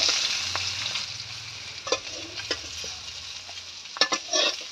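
Fish frying in hot oil gives a steady, moderate sizzle hiss, broken by a few sharp spatula scrapes and clinks near the end.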